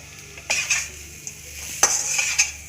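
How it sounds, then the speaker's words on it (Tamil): A spoon scrapes and stirs a potato stir-fry with onion in a pan, a few distinct metallic clinks over a low sizzle, close and clear, no talk. "வெங்காயம் போட்டு நல்ல ஒரு கிளறி, எல்லா இடத்துலையும் படுற மாதிரி கிளறி விட்டுட்டு அடுப்பை ஆஃப் பண்ணிடலாம்"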